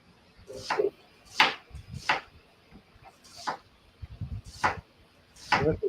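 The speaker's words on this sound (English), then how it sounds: "Let's chopping the onion." A knife chops an onion on a cutting board in a kitchen, with about eight separate sharp knocks at an uneven pace, close and clear.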